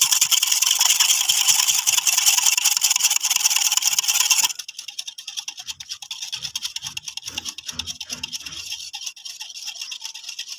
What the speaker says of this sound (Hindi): दही को अच्छी तरह फेंट लेना है, चीनी मिक्स कर लेनी है।